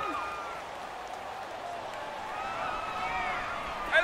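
Crowd noise in an EA Sports football video game, a steady broad roar of a stadium crowd building slightly toward the end before a big third down, with no clear talk over it.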